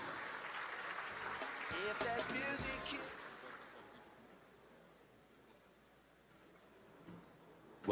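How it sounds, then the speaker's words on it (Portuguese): An audience at a lecture during a traffic-education congress claps warmly for the speaker, with a burst of applause and some chatter that tapers off into quiet room sound. "Uma salva de palmas"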